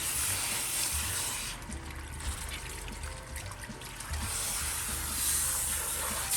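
Running water from a salon sink rinses shampoo from hair during a final rinse, a steady close hiss and trickle that shifts in tone as the stream splashes over the hair.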